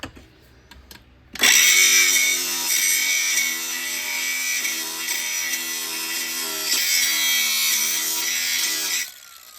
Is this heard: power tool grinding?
yes